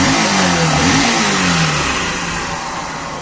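Honda CB Shine motorcycle engine fitted with a new universal carburetor, revving loudly up close then settling as the pitch falls and the sound fades slightly toward the end.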